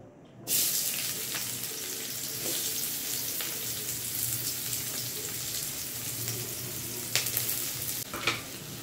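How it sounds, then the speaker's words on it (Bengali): Onions fry in hot oil in a pan, a dense continuous sizzle holding steady for several seconds, close up, with occasional stirring taps and scrapes. "এইবার আমি কি করব, পেঁয়াজটাকে ভেজে নেব।"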